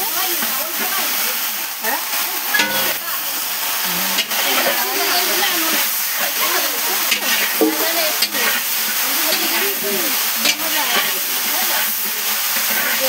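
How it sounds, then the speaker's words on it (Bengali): Bottle gourd stir-fried in hot mustard oil with dried chillies and bay leaf at a home gathering, a loud, continuous sizzle with rhythmic scraping of a spatula in the pan, voices chatting alongside. "লাউ ভাজা দিয়ে দিচ্ছে"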